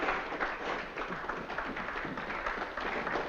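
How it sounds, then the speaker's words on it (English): An audience claps together in one dense, continuous wash of applause that stays steady for a few seconds. "Does the applause warrant an encore?"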